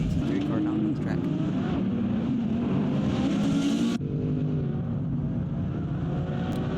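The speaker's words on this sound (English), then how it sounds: "Quite interesting to see a GT3 car down on the track." A GT3 race car engine drones loudly and steadily on the Magny-Cours Grand Prix circuit, building toward a peak before dropping off sharply, while commentators talk over it.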